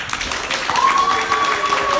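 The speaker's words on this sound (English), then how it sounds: "So clap as if the song's just ended" A live audience at a Platform show claps and cheers as if a song has just finished, a steady dense patter of hands with a few voices and whistles rising through it.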